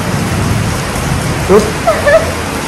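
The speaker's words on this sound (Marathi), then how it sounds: "बापरे किती पाऊस येतोय. आवाज येतोय." A dense, steady roar of heavy rain fills the whole clip, with a few faint, brief tonal sounds rising over it near the end.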